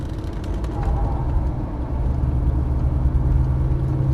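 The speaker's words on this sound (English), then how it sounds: "It's going to be a Lamborghini passing here on the right side." A Lamborghini passes a Porsche Turbo S on a race track, heard from inside the Porsche as a steady, loud engine roar and road rumble, continuous throughout with no talking.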